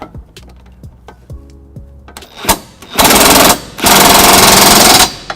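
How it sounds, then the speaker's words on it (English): A cordless impact wrench with a 19 mm socket tightening trailer hitch bolts on a 2016 Toyota Highlander: a few light clicks and taps, then two loud, close, sustained rattling hammering bursts of about a second each. "I'm going to use my cordless impact and tighten them down"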